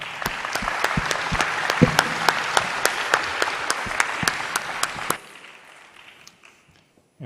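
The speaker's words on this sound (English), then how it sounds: "give a round of applause to our panelists" Audience applause for the panelists at the close of an International Astronautical Congress session in Baku, a steady burst of clapping with sharp individual claps standing out, stopping abruptly after about five seconds and leaving near silence.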